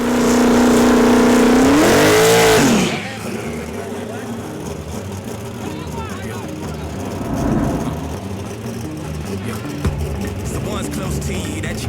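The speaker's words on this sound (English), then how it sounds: "We got Mikey V in his white Mustang street car versus Vito in the race car" A loud engine revs hard and then roars off in a rush, followed by a steady rumbling engine noise as a white Mustang street car and a race car pull away in a drag race.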